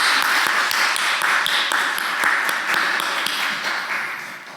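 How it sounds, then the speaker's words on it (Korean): A church congregation stands and applauds a soon-to-be-married couple during a Sunday service. The dense, sustained clapping fills the room, and a few sharper individual claps stand out from the wash. "우리 박수로 축하하겠습니다."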